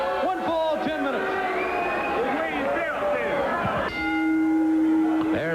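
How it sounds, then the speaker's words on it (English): A wrestling ring bell rings at the start of a pro wrestling match, with ringing tones sounding over a noisy, cheering arena crowd and whoops, and a strong bell tone holding near the end. "There's the bell"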